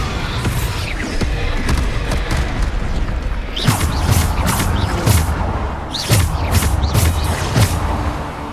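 Bombarda explosion spell cast in the Hogwarts Legacy video game, a dense run of loud thumping booms and crashes in rapid succession, repeated bursts with sharp impact transients over continuous battle noise.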